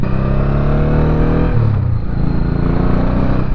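A Honda Shadow motorcycle with a sticking throttle runs while being ridden, its engine loud and close with a steady droning tone, the pitch dipping briefly midway before settling again.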